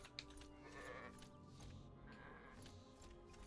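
Sheep bleating in the video game ArcaniA: Fall of Setariff, a few wavering bleats over a steady game soundscape with background music.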